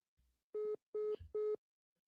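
After a phone line drops mid-call during a live call-in show, a telephone tone sounds three times in short, evenly spaced steady beeps, quiet and clean with no talking.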